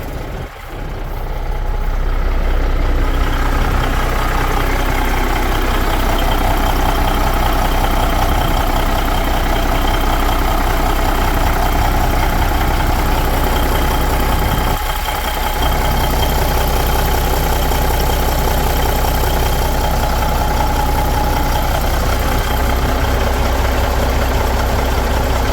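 A 1991 Peterbilt 379 single-axle daycab idles on an old mechanical, air-to-air CAT 3406B diesel rated at 425 horsepower, after a cold start with some blow-by. It gives a loud, steady, low rumbling idle close by and holds it throughout.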